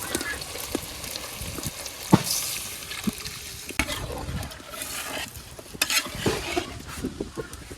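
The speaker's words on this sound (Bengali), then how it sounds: "আমি এই তরকারিতে জল দিয়ে দিই এখন" Water poured into a prawn curry cooking in a village kitchen, a steady wet rushing and sizzle with scattered clinks and stirring knocks, fairly close and continuous throughout.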